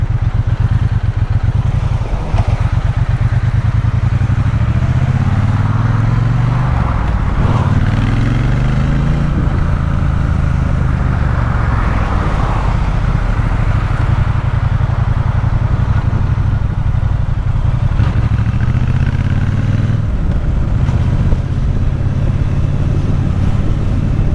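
A Triumph Bonneville T120 motorcycle on a long-term test ride, its engine droning loud and close, rising and falling in pitch as it accelerates and shifts, with wind rush throughout.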